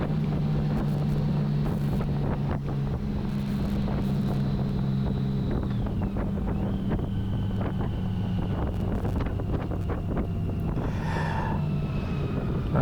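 Honda Goldwing motorcycles ride the Tail of the Dragon road, with a constant engine drone and heavy wind buffeting the microphone, and the engine pitch shifts partway through.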